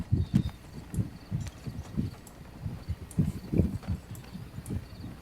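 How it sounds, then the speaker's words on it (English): Horse hooves clip-clopping on a hard surface in a steady gallop-like rhythm, fairly close and clear with no talking over them. "You can hear his horse getting closer and closer."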